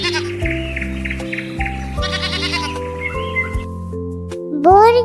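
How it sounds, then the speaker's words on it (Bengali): A goat kid gives a short, wavering bleat near the end, rising above steady cheerful music that plays throughout. "ছতে ছাগল, ছাগল ছানা"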